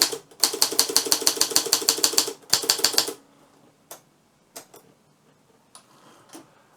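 An Olympia Progress typewriter types a fast run of sharp, evenly spaced key strikes, pauses briefly, adds a few more strikes, then falls to sparse scattered clicks and clacks, all close and alone.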